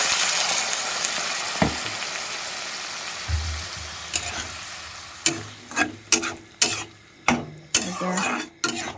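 Dried fish sizzles in a frying pan with a steady broadband hiss, while a series of sharp, rhythmic scraping strikes from stirring come in the second half, close and fairly loud.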